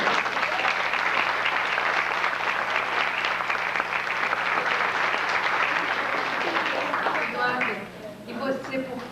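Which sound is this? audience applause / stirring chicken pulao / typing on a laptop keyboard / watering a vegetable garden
audience applause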